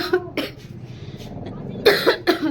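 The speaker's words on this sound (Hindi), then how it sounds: "खांसी आ रही है।" A few coughs at the start, then a quiet stretch, followed by a louder burst of harsh coughing near the end, fairly close.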